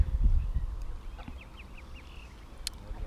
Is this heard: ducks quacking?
yes